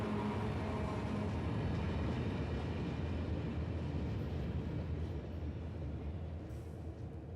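A long iron ore train crossing the Mauritanian desert rumbles steadily in a dense low roar of heavy cars, fairly loud and gradually easing off toward the end, with no voices.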